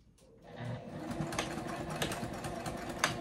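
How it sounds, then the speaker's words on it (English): A sewing machine backstitches a strap on a zippered circle bag, a fairly quiet, steady whirring run of close stitching with faint clicks and no talk. "Go up to that line and backstitch"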